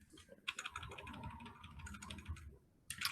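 Keys clatter on a computer keyboard in quick, uneven bursts, close and fairly quiet, with a short pause before a final flurry of keystrokes.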